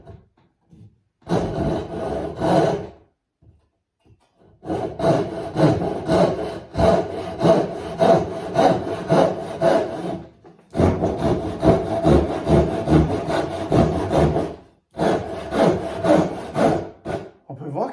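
A Japanese rip saw cuts through wood by hand in rhythmic bursts of rasping strokes, close and loud, separated by short pauses between sets of strokes.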